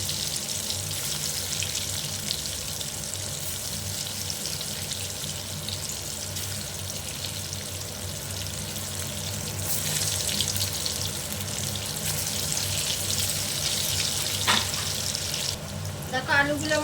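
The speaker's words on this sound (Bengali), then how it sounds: "তেলটা গরম হয়ে গেছে। এবার আমি একে একে আলুগুলো দিয়ে দিচ্ছি।" Potatoes coated in salt and turmeric frying in hot oil for mutton biryani, a steady close hiss and sizzle running throughout with faint kitchen clatter near the end.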